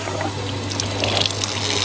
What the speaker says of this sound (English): We'll turn the hose on.